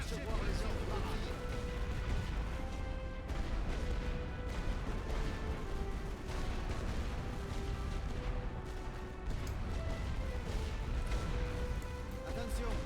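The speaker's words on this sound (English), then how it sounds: "Tirez avec toute l'artillerie." Artillery barrage thunders in a WWI video game, The Great War: Western Front, with dense, continuous booms and crashes layered under game voices and music.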